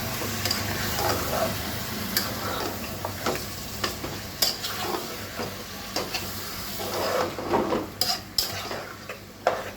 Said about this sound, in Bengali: এখন আবার ওইটা একটু নাড়াচাড়া করবো